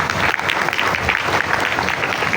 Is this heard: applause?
yes